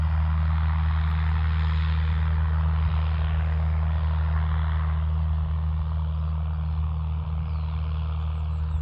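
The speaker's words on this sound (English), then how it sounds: "Aeroplane in the background, here we go. It's going to be taken off." A steady, droning engine roar from an aeroplane taking off fills the air at an even level throughout, with no talking over it.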